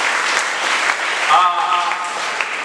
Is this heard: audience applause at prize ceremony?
yes